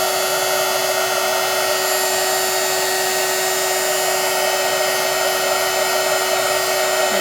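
A heat tool blows a constant, loud whirring hiss while melting embossing powder on a papercraft card. The sound is steady and unbroken throughout, with no talk.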